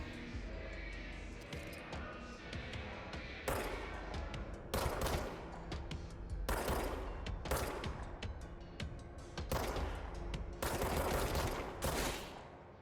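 Bursts of gunfire ring out in the video game Control, with several sharp, loud volleys and rapid shots separated by brief pauses over a low game backdrop.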